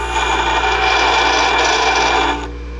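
Harbor Freight bench grinder grinding a workpiece under load, a loud harsh rasping hiss over the motor's steady hum that stops abruptly near the end, leaving only the hum.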